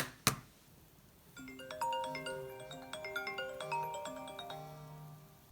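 An iPhone ringtone plays as a bright melodic chime sequence, preceded by a single sharp click, with the phone's vibration buzzing underneath the tones at close range.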